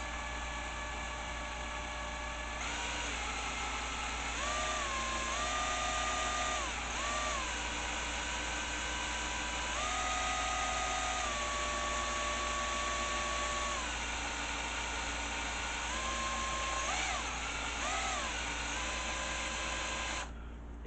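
Electric drill spinning an old DC motor slowly to generate power, giving a steady close whine with tones that rise and fall as the speed shifts.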